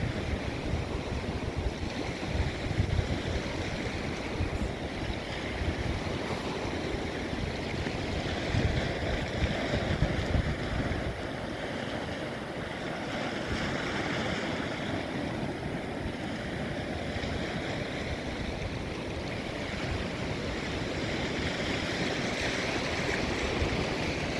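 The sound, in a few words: water waves hitting stones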